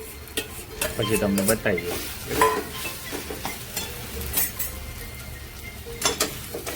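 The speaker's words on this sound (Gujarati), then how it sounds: "હવે આ બધું વેલ મિક્સ કરવાનું છે." Spicy potato samosa filling with red chili powder being stirred in a pan, steady scraping and light sizzle throughout, with a person talking briefly over it.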